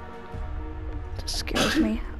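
A single sharp sneeze bursts out near the end, close and loud, after a stretch of quiet talking and low background hum.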